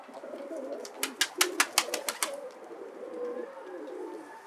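Pigeons coo softly in the background while a quick run of sharp, bright chirps or flutters breaks through in the middle, then fades back to a low murmur.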